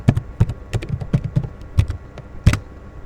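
Someone types on a computer keyboard while entering a voucher narration in Tally.ERP 9 accounting software. Brisk, close keystrokes fall in an uneven rhythm, with one harder tap near the end.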